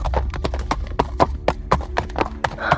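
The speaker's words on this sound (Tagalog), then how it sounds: "nakarinig noon si Elpidio ng parang padyak ng kabayo" A horse's hooves clip-clop along a roadside in a steady series of sharp, close knocks, about a dozen strikes with no talk over them.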